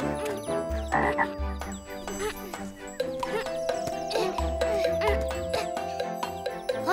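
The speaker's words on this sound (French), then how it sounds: "Sauter fait faire bruit à petite grenouille." In a children's cartoon, a small frog croaks in a string of short repeated calls over a bright musical background, with chimes and tinkling tones nearby.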